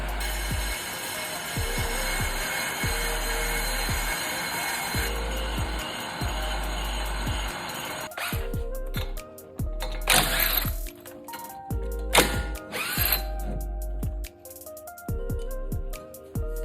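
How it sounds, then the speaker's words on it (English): A brake lathe machines a rear rotor from a 2019 Ford Escape, giving a steady mechanical whir with a repeating low rhythmic thump and some sharper metallic bursts partway through, with no talking. "Now we can go ahead and start machining the rotor."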